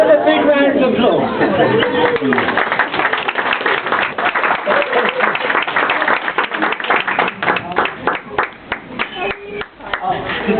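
An audience at a live bird-imitation performance breaks into a round of applause. Dense clapping builds after a noisy start with chatter, then thins into scattered claps toward the end.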